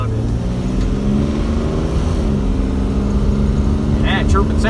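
A 1960 AMC Rambler with a 2JZ engine swap accelerates hard, its engine droning loud and close as the tires chirp in second gear, with people talking over the engine.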